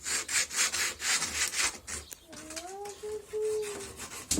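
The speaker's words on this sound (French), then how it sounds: "On ponce." Rhythmic back-and-forth rasping of hand sanding on a homemade wooden mallet, strokes repeating steadily, then pausing as a voice and whistle-like tones cut in near the end.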